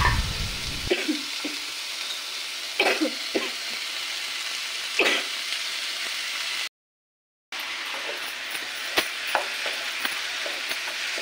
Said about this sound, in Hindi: यहाँ पर भाजी मैंने पकने के लिए रख दी